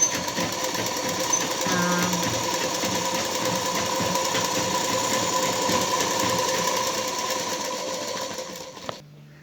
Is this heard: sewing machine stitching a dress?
yes